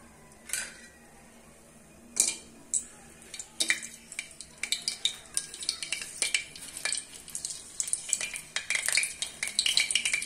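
Papad frying one or two at a time in hot oil in a kadai, with sparse crackles at first that build into dense, rapid popping and sizzling, alongside occasional utensil scrapes.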